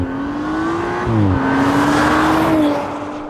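An Audi RS5 accelerates hard on a drive, its engine droning loud and close with a rising tone, a brief dip as it shifts, then a climb again. There is no talk.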